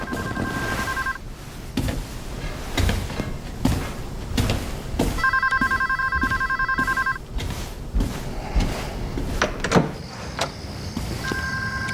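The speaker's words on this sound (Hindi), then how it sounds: "तुम्हारा फोन बज रहा है।" A telephone rings in repeated electronic trills, three separate bursts spaced apart, heard over a busy background of movement and room noise.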